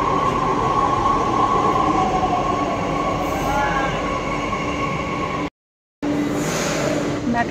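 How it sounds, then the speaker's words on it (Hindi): An arriving metro train rumbles loudly nearby, with a steady roar, faint squealing wheels and humming tones, then a brief cut to silence before the din resumes. "मेट्रो आ चुकी है"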